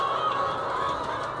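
Dense, continuous clucking and squawking from a large flock of hungry chickens on a poultry farm of around 2,000 birds, loud and close, filling the whole moment.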